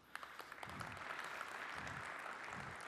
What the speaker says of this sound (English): John and his team deserve a very big round of applause